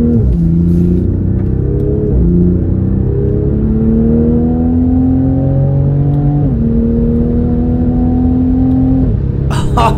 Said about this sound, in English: Oh, the Supra is so quick, and the sound it makes it seem even quicker.